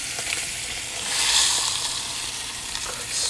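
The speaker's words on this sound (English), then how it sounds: "I'm trying to get a good even sear everywhere." A rack of lamb sears in a hot pan with a steady, close sizzle that swells briefly in the middle and continues without any talking.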